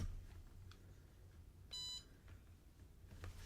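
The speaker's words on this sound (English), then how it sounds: "That like beep you heard is how it beeps when time's up" A countdown timer in a software interface sounds a single short electronic beep when time runs out, a steady tone of about a third of a second over faint background hiss.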